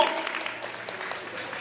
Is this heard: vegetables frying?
no